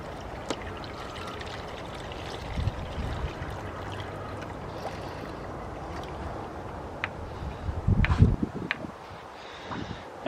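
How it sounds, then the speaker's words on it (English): Plain tap water trickling and pouring into the cooling system of a BMW N52 engine, faint and steady, broken by a few clinks and thuds. "now it's time to refill with just regular water"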